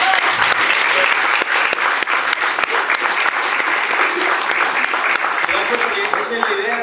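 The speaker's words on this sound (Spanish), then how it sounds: "ustedes deberíamos darle otro aplauso a los dos" An audience at a seminar gives a loud, sustained round of applause for two presenters, dense clapping with voices murmuring and calling out beneath it.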